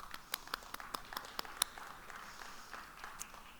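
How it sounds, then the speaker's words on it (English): Faint, scattered clapping from an audience at a policy discussion on a national hunger strategy, sparse distant claps rather than a full ovation. "I need to give you a round of applause."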